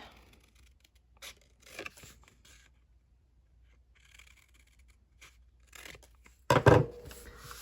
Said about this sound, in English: Go ahead and take some scissors and miter that, because this is a pocket